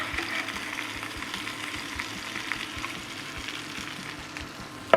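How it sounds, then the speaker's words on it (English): Seasoned steaks searing in a hot pan give a steady, close sizzle and crackle that carries on throughout with no talking, ending in a brief sharp clatter. "So I like to let these sear at first for about 2 minutes"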